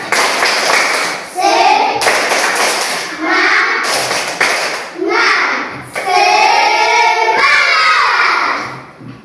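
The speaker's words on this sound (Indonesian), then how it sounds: "Kita tepuk semangat" A classroom of children does a rhythmic spirit clap in bursts, hands striking in quick patterned sequences with shouted chanting and excited voices in between, loud and close.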